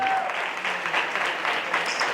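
Congregation applauding in a church service, a dense, steady wash of many hands clapping at moderate distance, continuous for about two seconds with no words spoken.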